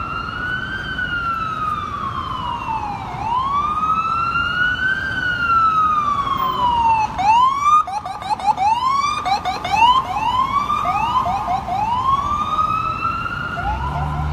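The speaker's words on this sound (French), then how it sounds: "j'entends une sirène, alors je vais quand même m'arrêter pour vous montrer la sirène" An emergency vehicle siren in New York wails steadily, sweeping up and down in long repeated cycles, then switching to faster yelping rises, loud and continuous with no talking.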